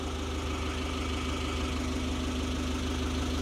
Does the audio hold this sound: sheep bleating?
no